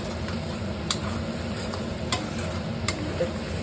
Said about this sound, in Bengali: তেলগুলো ছেড়ে দিয়েছে, মশলা পুরো করে ভাজা হয়ে গেছে